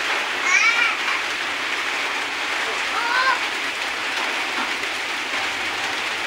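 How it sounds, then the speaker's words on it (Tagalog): Steady rain falls around a house under repair, a constant close hiss with brief chirping sounds and faint voices briefly heard over it. "Inabot po kami na ulan."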